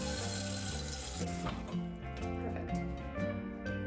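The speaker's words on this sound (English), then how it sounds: "So we're gonna take a pot, and we're gonna fill it up about halfway with water" Tap water runs steadily into a cooking pot being filled about halfway while preparing tapioca pearls for bubble tea at home, a continuous close splashing rush with faint background music and no talk.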